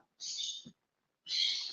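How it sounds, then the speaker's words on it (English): Pet birds in a home give two bright, squeaky bursts, each lasting about half a second and separated by a short silence. The calls are fairly close and clear, with no talking over them. "what's that squeaking in the background? Oh, that's my mother's birds."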